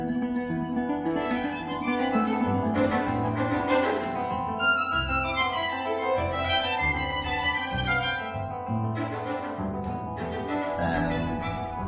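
A theorbo playing an accompanying part in a concerto for strings and theorbo, plucked chords and bass notes in a steady rhythm, clear and close with no talking.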